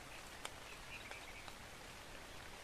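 Rain falling in the ARK survival video game, a faint, steady hiss with a few soft droplet ticks and small scattered sounds over it.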